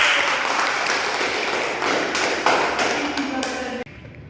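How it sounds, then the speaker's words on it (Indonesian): A classroom group claps for a student during a fiqh lesson, a dense burst of applause lasting about four seconds before cutting off abruptly, with voices mixed in. "Beri aplaus untuk Suci"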